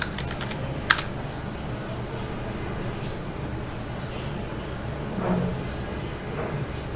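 Password keystrokes on a computer keyboard, soft scattered key clicks under a steady background hiss, with one sharper tap near the start.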